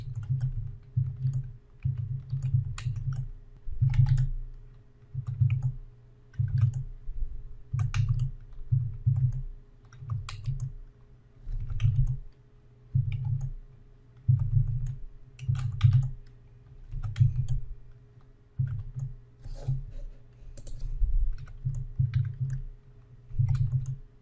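Computer keyboard typing, with quick bursts of keystrokes in an irregular rhythm over a steady low hum, close and moderately loud, no talking.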